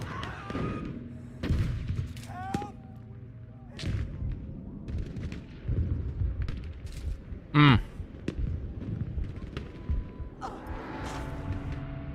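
Gunfire and explosive blasts in a Battlefield 5 battle, a series of sharp cracks and booms scattered across the stretch, one loud burst in the middle, with someone talking in between.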